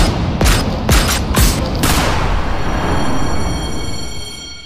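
Several sharp gunshots crack in quick succession during a film trailer, followed by a dense burst of sustained automatic fire that rumbles on with a ringing musical tone.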